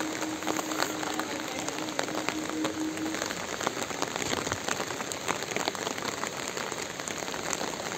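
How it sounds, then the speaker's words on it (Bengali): Heavy rain pours at a railway station, a dense, constant patter of drops hitting surfaces nearby with scattered sharper splashes and a faint steady tone in the background, no voices heard. "বাজে বৃষ্টি হচ্ছে একদম।"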